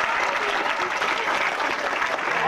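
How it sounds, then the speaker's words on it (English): A crowd at a high school band senior night applauds the parents, a dense, even wash of clapping holding steady and close with no break. "I think we owe them a round of applause."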